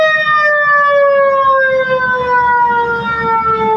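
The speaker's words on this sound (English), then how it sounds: "we are really close to that siren" Nearby outdoor storm warning siren wailing loudly and steadily, its tone sliding slowly downward across the whole stretch, with faint background noise beneath.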